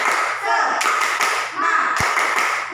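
A school class doing a rhythmic 'tepuk semangat' clapping chant, with many hands clapping together in quick patterned bursts mixed with voices chanting.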